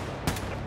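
Single sharp gunshot from a rifle in Wolfenstein 2 The New Colossus, a brief bright crack over a quiet, steady game background.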